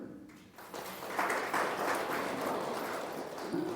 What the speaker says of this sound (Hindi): थोड़ा ताली बजाओ अच्छी तरह